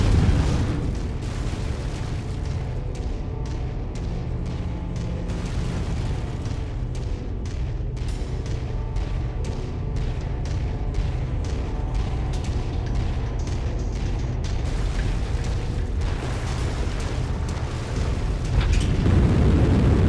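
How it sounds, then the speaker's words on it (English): In MechWarrior: Dawn of a Legend, a generator blows up amid a sustained roar of explosions and rumbling blasts, loud and continuous, with repeated booming bursts layered over heavy mechanical din. "generator blown."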